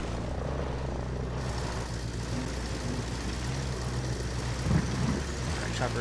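Helicopter in Ghost Recon Breakpoint, a continuous loud rotor-and-engine drone that fills the scene steadily, with a brief burst of activity near the end.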